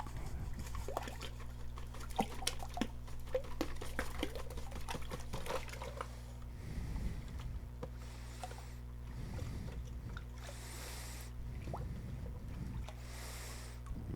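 Sand and water from a water reservoir are poured and dumped into a bucket outdoors, giving a steady trickling, sloshing wash with a few heavier gushes over a constant low hum.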